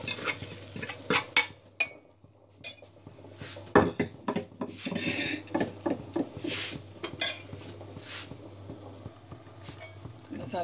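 A spoon stirring chickpeas into masala in a metal pot for Punjabi chole, with repeated scraping clinks and knocks at an uneven pace, close and fairly loud.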